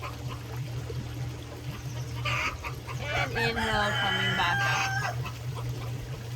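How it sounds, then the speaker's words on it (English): Chickens and roosters cluck and crow in a bright, overlapping burst, rising in the middle of the stretch and tapering off, with a steady low hum running underneath throughout. "The chickens and roosters are hungry."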